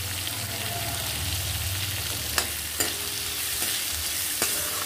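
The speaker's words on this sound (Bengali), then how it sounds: "এবার একটু ভেজে নেব," Sour mango pieces fry in a pan with salt and turmeric, giving a steady sizzle with stirring scrapes throughout and a few sharp clicks of a spatula against the pan.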